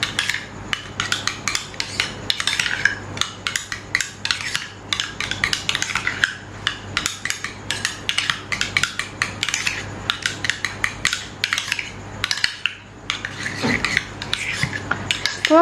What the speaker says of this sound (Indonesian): Selanjutnya kita aduk rata. Campurkan semuanya menjadi satu.